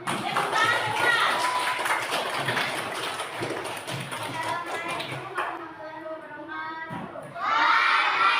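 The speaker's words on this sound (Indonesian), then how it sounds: "Tepuk tangan cepat." A class of schoolchildren claps quickly during a group presentation: dense, rapid, close clapping from many small hands with excited voices mixed in, tapering off before a brief burst of chatter.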